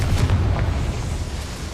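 Bombarda and Confringo spell blasts in the game Hogwarts Legacy, heard as a loud, deep booming rumble that swells at the start and then rolls away over the next second or so.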